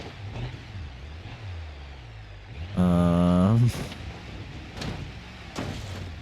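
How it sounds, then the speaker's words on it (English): Engine revving in an offroad video game, a single loud sustained rev lasting under a second with a rising harmonic whine, standing out over a quieter rumbling engine background with occasional clunks. "This engine might be too powerful for this situation."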